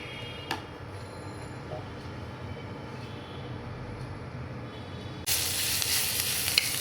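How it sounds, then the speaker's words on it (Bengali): White oil poured into a hot wok starts sizzling partway through, a sudden bright hiss that stays loud and steady after a quieter kitchen stretch with a few clicks. "কড়াইয়ের মাঝে একটু সাদা তেল দিমু"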